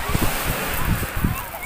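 Black Sea surf washing over a pebble beach, a steady rushing wash with soft rhythmic surges, close and fairly loud with some wind buffeting the microphone.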